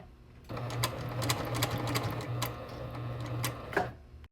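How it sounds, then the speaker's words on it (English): A sewing machine runs steadily, stitching a flap pocket, with a continuous close whirring hum and rapid ticking needle strokes for about four seconds before stopping abruptly. "Then I will fold it open and continue stitching to the other side."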